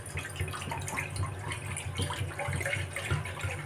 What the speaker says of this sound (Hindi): पानी भी डाल देती हूँ, दो तीन कप।